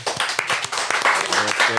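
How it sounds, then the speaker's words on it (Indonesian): An audience applauds at an Indonesian talk show episode, a short burst of scattered hand claps mixed with lively voices and cheering. "Tepuk tangan dong."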